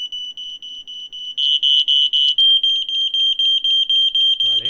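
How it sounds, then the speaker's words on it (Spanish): A smoke detector sounds its alarm in a home, a piercing, high electronic beep repeated in rapid, even bursts at close range. A voice cuts in briefly at the very end. "el oyente puede escuchar la alarma que recibiríamos en el caso de que el detector detecte que tiene humo en la vivienda"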